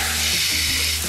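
An egg fries with bacon in a pan, giving a steady, loud, close hiss and crackle of sizzling fat with no pauses.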